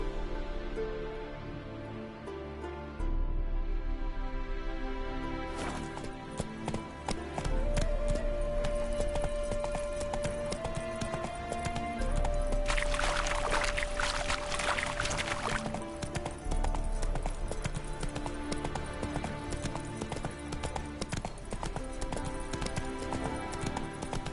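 Hooves clip-clopping steadily as a horse trots in The Witcher video game, a continuous rhythmic patter over music and ambient background.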